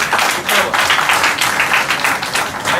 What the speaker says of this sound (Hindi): ऐसे लोगों के लिए मैं जोरदार ताली बजा के